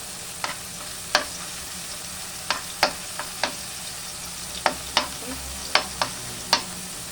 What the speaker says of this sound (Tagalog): Medyo ipapa-golden brown lang natin yung ating bawang mga kapalangga para lumabas yung kanyang aroma